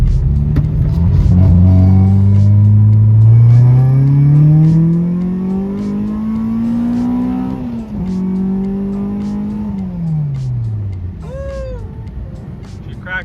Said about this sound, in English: Well, it starts. That's good. Let's warm up and see if we can crack that VTEC.